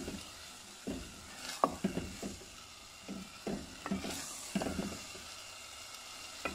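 Soaked white urad dal fries in a pan, giving a soft continuous sizzle broken by repeated scraping stirs of a spoon in an irregular rhythm, close and moderately quiet.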